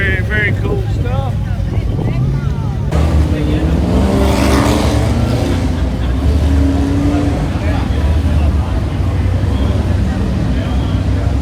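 Fast cars and trucks run a road course at an autocross car show, their engines a loud continuous roar with one vehicle passing close by, while voices talk over the noise.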